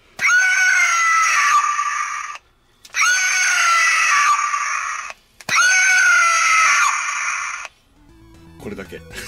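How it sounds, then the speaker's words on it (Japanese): A retro toy axe plays a recorded woman's scream: three loud, shrill shrieks of about two seconds each with short gaps between, followed by faint handling clatter. "ほんと女性の声で言うと悲鳴が出るっていうだけ"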